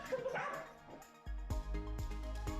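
A small pet dog greets its owner returning from nearly 11 months in space, letting out short yips and whimpering whines, close by and excited.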